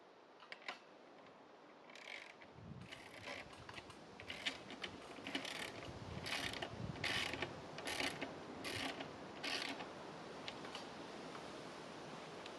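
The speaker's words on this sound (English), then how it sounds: "Tighten the nuts by hand first, then use a wrench to tighten them firmly." A wrench ratchets as nuts are tightened onto a metal bracket, a quiet series of quick, irregular clicking bursts close by, rising in intensity toward the middle.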